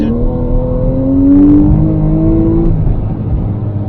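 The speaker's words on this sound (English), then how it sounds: "you want to hear this engine" A 2012 Porsche Carrera S with a naturally aspirated flat-six revs up loudly and steadily from the cabin, its rising engine note climbing and holding before easing off, with no talk over it.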